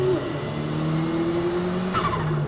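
A Japanese import car driving on the road past Mount Druitt, its engine droning steadily with a rising tone heard from inside the cabin, loud and continuous.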